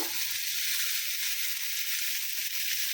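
A spiced vegetable mix of figs frying in a pan, giving a continuous bright sizzling hiss, close and even, with no voices over it.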